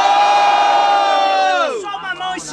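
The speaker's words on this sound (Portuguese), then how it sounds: "Muito barulho pra quem gostou das rimas do Breno" Loud crowd at a student rap battle semi-final in Guarulhos, Brazil, cheering and shouting in a sustained roar that tails off after about a second and a half into scattered whoops.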